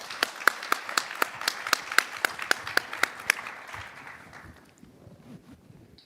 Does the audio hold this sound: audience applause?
yes